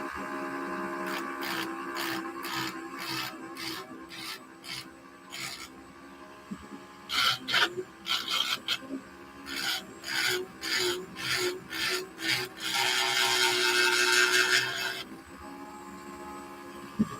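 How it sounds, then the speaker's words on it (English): A Dremel rotary tool fitted with a carbide tip scores into material, producing a harsh, buzzing grind in repeated short passes, then one longer steady stretch near the end, loud and close with no talk. "So a Dremel with a carbide tip."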